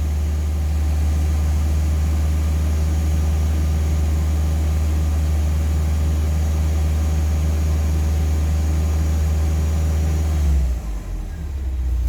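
A car engine idles steadily during a tune-up, a loud, even low rumble that holds for about ten seconds before the revs drop and the sound shifts near the end.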